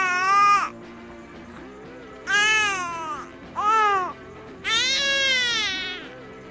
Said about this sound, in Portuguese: Outro som usado pelos bebês é o on, e esse som significa que o bebê está com sono.